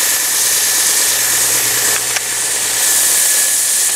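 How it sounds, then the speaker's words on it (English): An edge sander runs continuously with a loud broadband hiss and steady motor hum while rounding over the edges of a kitchen cabinet drawer, with a brief contact change partway through. "we're going to take it over to our edge sander, and I'm just going to hit it really quick and kind of round it over"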